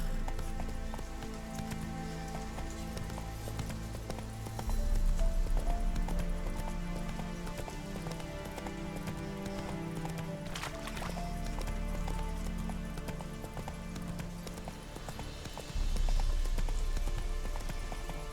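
A horse gallops in the video game The Witcher 3, its hooves pounding in a fast, continuous rhythm over a dense layer of game ambience and music, with heavy low thumps swelling at intervals.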